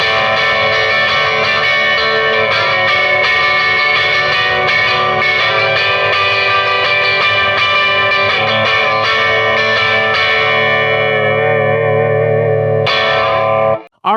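Electric guitar with stock Squier pickups on a Mustang-style guitar, both pickups wired out of phase, rings out as a sustained, effected chord texture with shimmering overtones, loud and alone, cutting off abruptly at the end.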